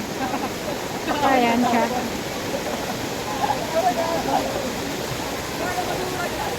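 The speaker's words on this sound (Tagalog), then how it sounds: "ngayon lang nangyari na umapaw yung ilog ng 1K1" Floodwater roars as the overflowing river rushes past 1K1 Kasiglahan in Montalban, Rizal, during Typhoon Carina. The noise is a constant loud wash of water, with someone talking over it.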